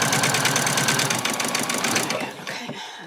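A sewing machine stitches an apron in a fast, regular mechanical chatter close by, easing off and slowing near the end.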